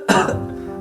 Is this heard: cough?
yes